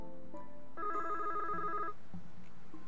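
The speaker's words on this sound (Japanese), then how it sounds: "呼び出し音を聞きながら天下くんの顔を思い浮かべる。" A telephone ringback tone in a Japanese video game plays as one sustained electronic ring burst of about a second, fairly clear over a quiet background with no speech.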